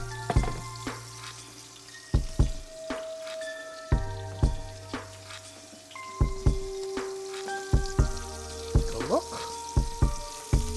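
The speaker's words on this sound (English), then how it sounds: "Let them get a nice bit sear on one side." Petite filet mignon steaks searing in a hot pan, steady crackling sizzle punctuated by repeated sharp clinks and taps of a utensil against the pan, heard close up with no talking.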